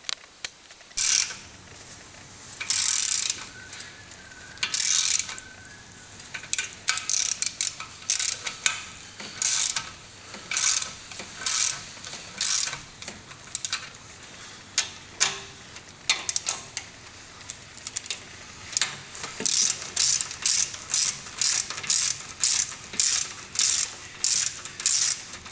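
Ratchet wrench clicking in repeated bursts while undoing the head studs on a Series 3 Jaguar E-Type V12 engine, heads coming off with the engine still in the car; close, crisp ratcheting strokes with short pauses, no talk.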